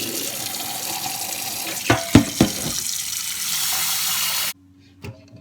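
Cold tap water runs steadily into a sink to soak boiled salted eggs, with a few clattering knocks near the middle before the flow stops abruptly, leaving near silence and one more faint clink.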